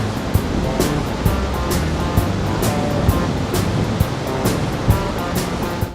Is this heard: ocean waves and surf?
yes